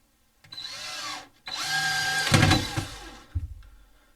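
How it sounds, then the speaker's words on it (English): A power drill drives screws into a stereo mount during a basement studio build, sounding as two close, loud whirring runs that rise and fall, followed by a short final burst, with no speech. "I'm actually going to just straight up, instead of brackets, screw this in from the other side"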